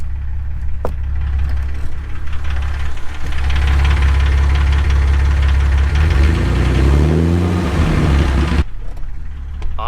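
A Jeep TJ drivetrain with a suspected chipped differential tooth runs with a loud, rough rumble and rhythmic knocking, and a wavering mechanical whine grows near the end before the noise abruptly cuts off.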